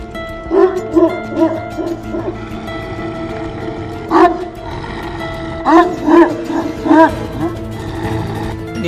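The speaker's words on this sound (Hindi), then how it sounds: "ये कुत्ता तुम्हें देखकर भौंक क्यों रहा है?" A dog barks repeatedly in loud, irregular bursts, several close together, over a constant background hum.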